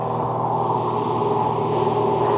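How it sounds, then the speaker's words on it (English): Steady traffic on a main highway below a hillside garden, a continuous loud road roar with engine hum and no breaks, without voices. "So obviously down there is the road. You can see traffic going by."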